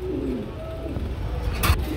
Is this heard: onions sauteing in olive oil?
no